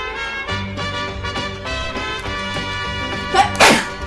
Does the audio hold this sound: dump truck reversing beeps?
no